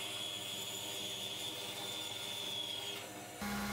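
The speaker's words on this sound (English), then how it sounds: "Next, I cut the ends off on the bandsaw" A bandsaw cuts the ends off a lathe-turned wooden file handle with a steady, fairly faint whine and hum that drops out near the end before a different tone takes over.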